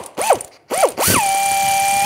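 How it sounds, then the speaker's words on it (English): A ratchet with a 16 mm socket loosens a rear sway bar link nut on a 2006-2009 Mercedes-Benz E350, giving two short rising whirs and then a steady whirring run, close and loud with no talking. "using the 16 millimeter socket, take this nut off"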